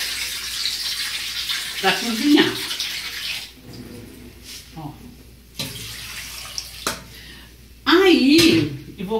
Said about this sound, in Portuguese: Eu vou colocar água.